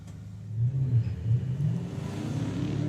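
A Mustang and a Lexus at a drag racing event rumble and rev, engines surging and swelling in a low, steady roar at middle distance with no voices over it.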